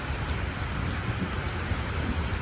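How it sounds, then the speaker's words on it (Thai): Steady rain pours down, a dense, even hiss of drops hitting surfaces close by, with no voices. "อันนี้ฝนเริ่มซาแล้วครับ"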